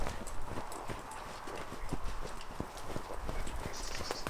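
A young ranch horse's hooves clip-clop on firm ground as it is driven around a pen by a rider on another horse, a steady, fairly close run of sharp hoof strikes over low rustling background.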